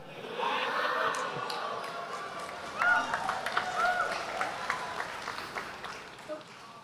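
An audience at a public question-and-answer session with a politician breaks into scattered applause, a moderate crowd clapping that swells early and then thins out over several seconds.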